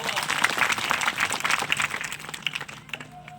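A crowd of devotees at a religious gathering in Rajkot breaks into applause, a dense burst of clapping close by that thins out and fades toward the end, with voices mixed in.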